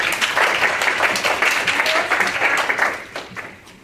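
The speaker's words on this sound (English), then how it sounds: "Just maybe a little bit of applause." An audience at an undergraduate women's studies conference applauds, a dense continuous round of clapping from a room of people that fades slightly at the end.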